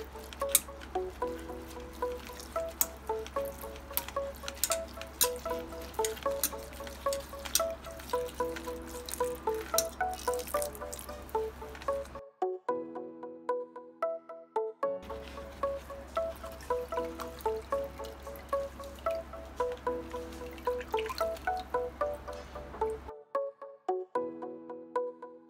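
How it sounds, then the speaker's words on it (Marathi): Water poured over dried Holarrhena flowers to wash them, a steady pattering trickle that runs on and off twice, with a low hum underneath. "तर हे पाणी टाकून आपण आणखीन एकदा धुवून घेऊया."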